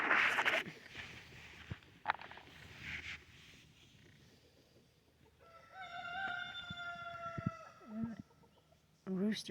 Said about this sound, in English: Rooster's up there growling